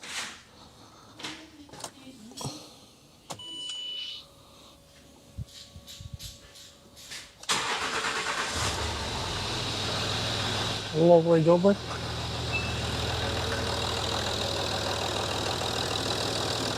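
A rebuilt cheap Range Rover engine cranks and fires up partway through, then settles into a steady, loud idle after some clicks and brief talk beforehand; a voice speaks briefly over the running engine.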